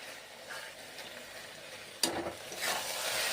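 A greens curry made with amaranth-type leaves is stirred and fried in a pan, giving a soft continuous sizzle with a sharp scrape of the spatula partway through, followed by louder frying.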